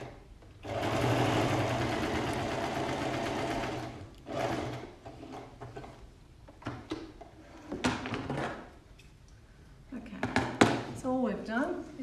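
A domestic sewing machine stitching two fabric pocket bags together for a side seam pocket, a steady whirring run of several seconds followed by shorter bursts, handling clunks and fabric rustles.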